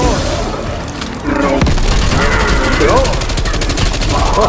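A rocket launcher blast in the Call of Duty: Black Ops Cold War annihilation mode, loud and boomy with a sharp onset, followed by continuous gunfire clatter and someone shouting over the battle.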